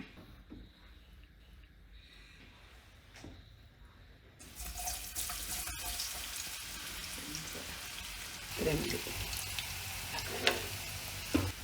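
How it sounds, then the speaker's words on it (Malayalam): Tapioca slices frying in coconut oil, a quiet room tone at first, then a steady broadband sizzle rising abruptly and holding, with a few louder crackles and stirring scrapes near the end; no talking. "കുറച്ച് നേരം ഇങ്ങനെ എണ്ണയിൽ കിടന്നങ്ങ് മുരിയട്ടെ"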